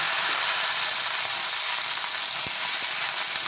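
Beans and eggplant fry hard in hot oil over a high gas flame, giving a steady, dense sizzle throughout with no talking.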